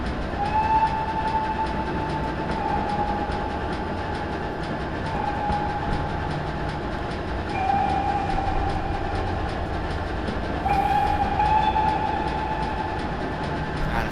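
Train whistles in a video game sound repeatedly in short toots over a steady rumbling engine and clattering rails, with no talking.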